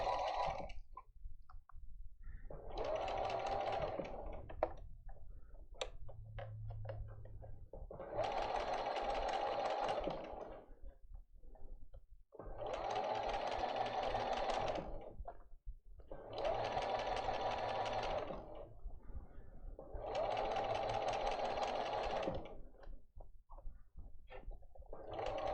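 A sewing machine stitches along the curved edge of a fabric geode workshop project in repeated bursts of steady, close motor-driven stitching, about five runs separated by short pauses.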